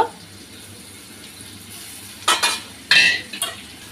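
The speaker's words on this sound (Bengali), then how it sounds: "এগুলো পেঁয়াজের সাথে দিয়ে আগে একটু ভেজে নেব" Garlic and ginger paste frying with onions in a pan for a fish-head and bean curry, with a low steady sizzle broken near the end by a few sharp spoon scrapes and stirring clatters.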